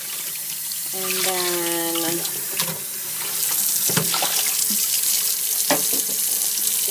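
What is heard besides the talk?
tap water rinsing dyed linen in sink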